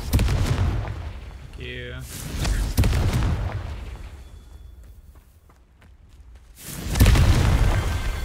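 Confringo blasting spells explode in the video game Hogwarts Legacy: several heavy booming blasts with rumbling tails, separated by quieter stretches, and a brief voice is heard.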